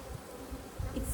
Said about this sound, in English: here you can see the bees are starting to build it all out